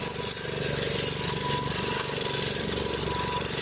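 A DR 26 Premier walk-behind brush mower cutting through grass, its engine pounding with a loud, rapid, jackhammer-like rattle that stays close and continuous, with no speech over it.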